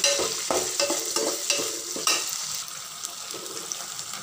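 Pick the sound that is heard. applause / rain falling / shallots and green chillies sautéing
shallots and green chillies sautéing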